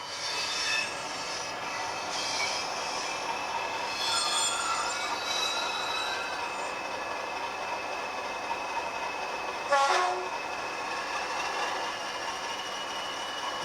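Bachmann Class 40 diesel model locomotive, number 40142, running on a DCC layout with its sound decoder on, giving a steady engine drone with wheel squeal and clicks along a dirty track, close and continuous without talk.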